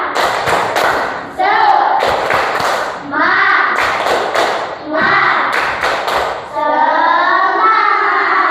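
Rhythmic group clapping in a classroom, a spirit-clap routine done together by a class, with bursts of sharp claps alternating with children's voices chanting between them, loud and close.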